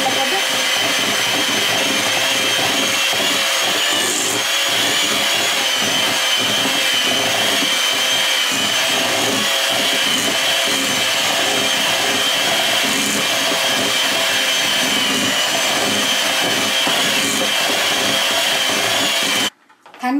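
An electric mixer runs on high speed, beating a cheese filling for stuffed shell pasta in a home kitchen, a loud continuous whirring drone that holds steady for nearly twenty seconds before cutting off abruptly.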